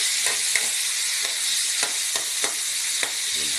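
Chopped tomatoes hit hot oil with softened onions in a pan, producing a dense, continuous sizzle dotted with small popping spatters, close and fairly loud with no talk.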